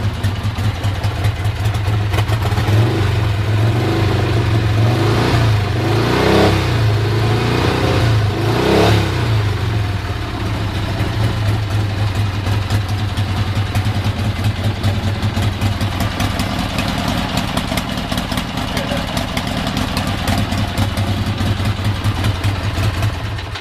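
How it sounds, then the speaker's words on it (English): A motorcycle with an old Odyssey battery starts and runs, loud and close, with a few quick throttle revs early on settling into a steady rumbling idle for the rest, no talking. "Well, bike started up."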